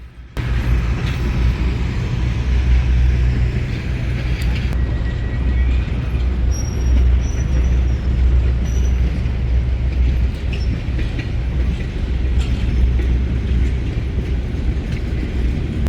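A Christmas special passenger train rolls along in the USA, its loud continuous rumble and rail noise steady throughout, with faint squeals and clicks over the low drone.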